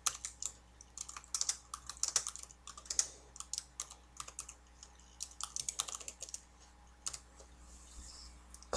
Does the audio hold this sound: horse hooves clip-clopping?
no